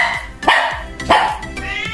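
Dog barking at home during trick training, two loud close barks about half a second apart with whimpery tones around them.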